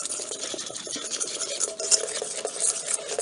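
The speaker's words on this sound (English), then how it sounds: "I'm going to finish getting this mixed" A rubber scraper mixes glaze in a bowl, producing continuous soft scraping and swishing strokes with a wet, slightly gritty texture, close up and steady.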